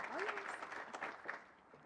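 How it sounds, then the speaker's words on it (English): Scattered applause from a crowd at the announcement of the 107th Rose Queen, fairly faint, with a brief voice rising over it near the start before the clapping thins out. "let's give her another big round of applause"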